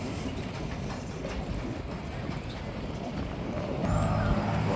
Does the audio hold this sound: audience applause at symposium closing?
no